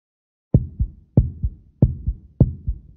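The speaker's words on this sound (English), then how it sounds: "Your heartbeat is regular." Heartbeat through a stethoscope in a Blue's Clues doctor check-up video game: four steady, regular lub-dub pairs of close, thumping beats after a brief silence, with no talking.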